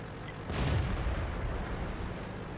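A tank gun fires in the World of Tanks game with a single deep boom that rolls off into a low, sustained rumble, heard alone.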